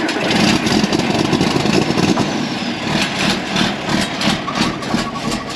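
An old 946 tractor engine, hot but unused for a couple of days, runs at a steady, loud idle with a dense, rumbling drone and slight surges, close by and with no talk.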